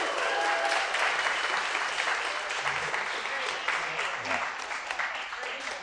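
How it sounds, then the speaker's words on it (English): Wedding guests applaud the MCs during the speeches at a reception at the National Arts Centre in Ottawa. The clapping is steady and moderately loud, with voices mixed in. "Everyone give them a round of applause."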